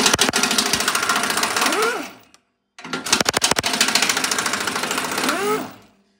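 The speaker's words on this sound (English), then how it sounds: "using a 21 millimeter socket, let's go ahead and remove the two nuts that hold the transmission mount to the transmission crossmember" An impact tool with a 21 millimeter socket removes two nuts holding a Ford F-150 transmission mount to the crossmember, firing two loud rattling bursts that each wind down at the end, separated by a brief gap.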